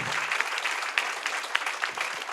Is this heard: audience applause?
yes